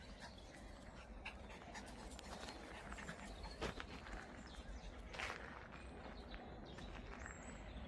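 A dog pants steadily and fairly faintly outdoors on sandy ground, with scattered footfalls and rustling and a couple of brief sharper sounds that may be barks. No speech is heard.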